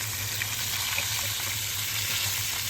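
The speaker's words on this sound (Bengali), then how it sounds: "গরম হওয়ার পরে একে একে মাছগুলো সাজিয়ে দিলাম ভাজার জন্য" Pangas fish pieces frying in hot oil in a pan over a medium flame give a quiet, steady sizzle with a faint low hum underneath and no talk.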